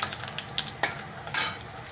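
Peanuts and dried red chillies roast in a pan for peanut chutney, making a light dry crackle with scattered pops and a short louder rattle of stirring.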